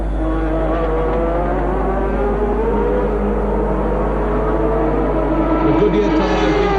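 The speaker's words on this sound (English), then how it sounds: "Into the pits comes second place man René Arnoux." A 1983 Formula One car, a Ferrari, pulls into the pits during a race, its engine a steady loud droning whine with shifting tones under a constant low roar.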